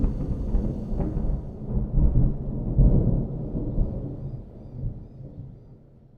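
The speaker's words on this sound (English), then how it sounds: "he heard the distant rumble of thunder" A deep, distant thunder roll rumbles for several seconds, swelling in the middle and then slowly fading away.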